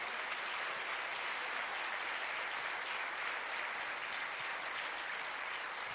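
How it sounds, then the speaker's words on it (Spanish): Church congregation applauding together, a dense, steady wash of clapping that holds evenly throughout without a break. "Le da un aplauso al Señor."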